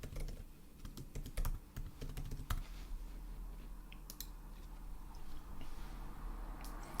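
Typing a screen name on a computer keyboard in the Appli app, a fairly quiet run of quick key clicks in the first few seconds, then sparser taps and clicks over a low steady hum.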